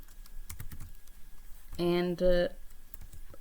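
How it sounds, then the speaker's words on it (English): Computer keyboard keys clatter as code is typed for a trash can sorter prototype that drives motors and sensors; soft, close clicks run under a voice, with a short burst of tonal sounds in the middle. "So we are typing void loop,"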